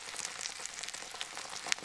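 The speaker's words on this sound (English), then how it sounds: "that sounds more like sizzling" Food sizzles and fries in a kitchen pan, a steady crackling hiss with scattered sharp pops running throughout.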